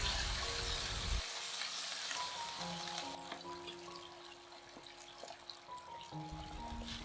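Water is poured into a hot pan of oil and soy sauce while braising fried tofu, producing a steady hiss and sizzle with light splashing throughout.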